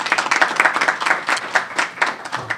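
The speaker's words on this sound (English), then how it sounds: "Let's have a round of applause" A debate audience on a college campus gives its speakers a steady round of applause, with dense, continuous clapping from many hands that stays fairly loud throughout.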